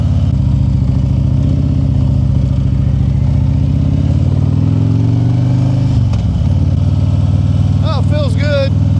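A motorcycle that has just had tire and bearing work rides along outside, its engine droning steadily and rising as it accelerates, loud and close throughout.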